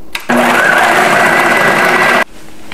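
Electric food chopper whirring steadily for about two seconds as it grinds beef into a smooth paste for meatballs, a loud continuous motor drone that starts and stops abruptly.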